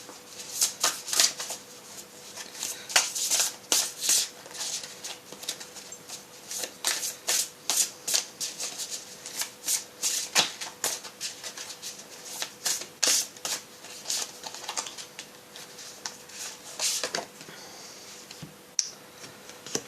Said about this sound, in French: Je vais mélanger parce que c'est le précédent tirage.